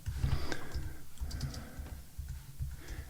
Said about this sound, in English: So I can type in something here,